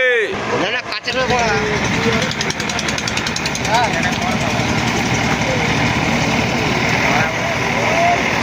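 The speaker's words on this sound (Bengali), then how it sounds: "জেসিবিতে বাইক টানছে" Heavy excavator engine rumbling and straining steadily throughout as it pulls a motorbike after a road accident, with people talking and shouting over the noise.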